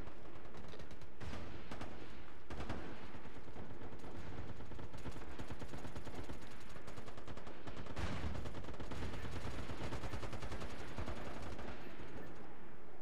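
Dense, continuous gunfire from an online military shooter game, with rapid automatic bursts and heavy shots rattling almost nonstop at high volume, no speech.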